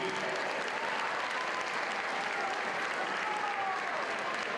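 A crowd in a gym applauds the MVP and all-tournament team at a boys' high school basketball district championship, with steady, dense clapping throughout.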